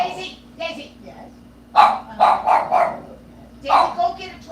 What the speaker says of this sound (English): Daisy, no barking, no barking.